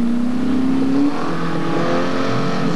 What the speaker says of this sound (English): I can't believe his wheels are still frozen.